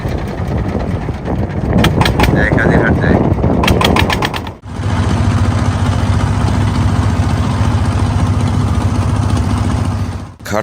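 A trawler boat engine chugs steadily with a low, throbbing drone; rattling knocks come first, then a brief cut before the engine hum resumes evenly.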